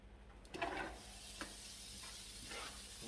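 Chopped bacon hitting a hot pan and starting to brown, with a soft steady sizzle and a few brief stirring scrapes, faint and close.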